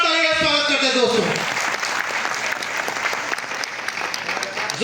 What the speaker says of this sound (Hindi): जोरदार तालियां दोस्तों प्लीज।